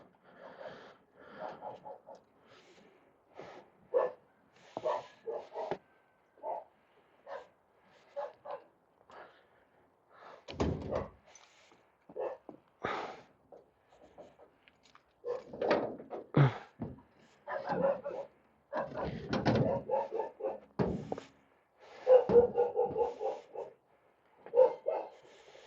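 Several dogs bark in scattered bursts, some yips and whimpers mixed in, near and fairly loud, with quiet pauses between volleys and occasional thumps.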